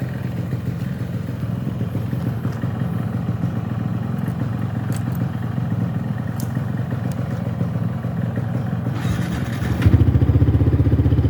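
A 2009 Yamaha Vixion four-stroke motorcycle engine with a racing exhaust idles steadily with a throaty, rumbling note, then revs up louder near the end; no voices.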